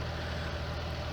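A large tractor idling in a farming game at Oakfield: a steady, low, even engine hum holds for a brief moment with no change in loudness or rhythm.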